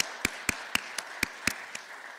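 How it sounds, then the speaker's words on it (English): Seven evenly spaced, crisp hand claps ring out at a steady rhythm in an indoor venue, a sparse round of applause for a series sponsor, fairly quiet with no voices. "join me in giving a round of applause to our sponsor of the series, Premier Bank"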